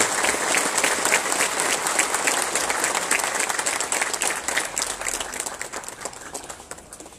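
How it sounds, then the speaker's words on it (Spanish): Crowd applause at a municipal swearing-in ceremony in Tlaxiaco, a dense, steady clapping from many hands that holds strong for about seven seconds before gradually thinning toward the end. "Un fuerte aplauso para el licenciado José."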